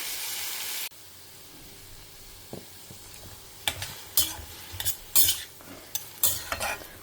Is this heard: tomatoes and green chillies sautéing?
yes